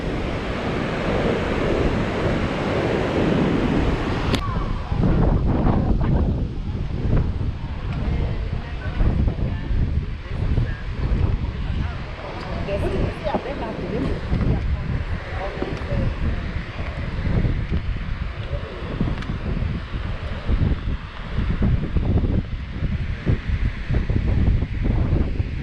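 Strong wind buffets the microphone over steady crashing surf on a Durban beach at Shaka Marine, a loud continuous roar with gusty rumbles throughout.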